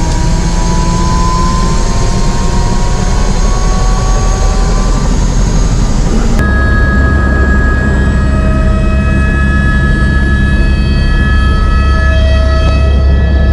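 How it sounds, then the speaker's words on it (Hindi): A helicopter's engine runs loud and steady from inside the cabin at the start of an Adi Kailash helicopter tour near Om Parvat, a dense turbine whine with rising rotor tones that shift pitch partway through and continue without pause. "तो हेलीकॉप्टर स्टार्ट हो चुकी है"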